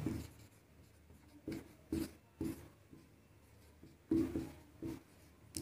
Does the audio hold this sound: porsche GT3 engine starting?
no